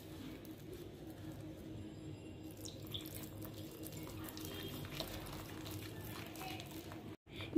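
Water is trickled little by little into jalebi batter, making a faint, continuous splashing and pouring sound at low volume.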